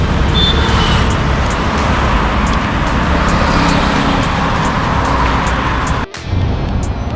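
Steady, loud road traffic roars continuously, a dense wash of car, bus and truck engine noise with brief sharp bursts, briefly cut out near the end.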